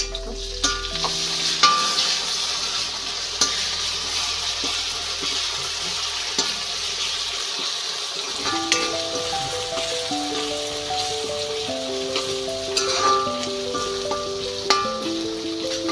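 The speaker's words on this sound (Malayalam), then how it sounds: "ഒരു കുടം വെളുത്തുള്ളിയും 2 കഷ്ണം ഇഞ്ചിയും ചതച്ചതാണിത്. ഇത് നമുക്ക് ചേർത്ത് കൊടുക്കാം." Crushed garlic and ginger added to a hot pan for village-style chicken curry, a loud crackling sizzle with stirring sounds over background music.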